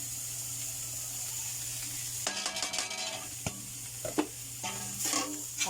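Smoked fish (tinapa) being stirred in a pan for palabok, a soft sizzle under a low hum, then irregular scraping and clinking strokes of a utensil against the pan.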